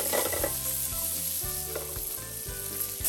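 Peanuts toasting and popping in a hot pan with green onions and raisins, a dense steady sizzle with faint irregular pops and light stirring, close.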